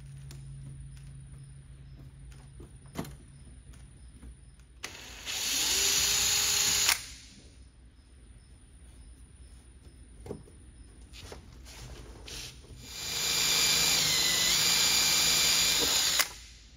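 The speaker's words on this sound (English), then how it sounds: "You do want to be careful not to drill too far." A power drill whines in two loud sustained runs of about two and three seconds, close up, while upgrading a new Land Rover Defender. Quiet handling noises and a few clicks fall between the runs.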